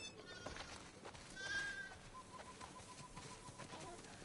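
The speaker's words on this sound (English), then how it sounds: "Listen up, sheep. Your dinner awaits you in the barn, so come on." Sheep bleat in The Last of Us Part II at a farm by a barn, with a faint, wavering call standing out over a busy, low ambient background.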